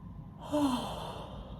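A single breathy exhale swells after a short pause, a soft yawning sigh that trails off close to the listener.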